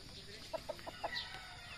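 Gamefarm chickens clucking in a few short, soft, separate notes from some distance away, over a quiet outdoor background.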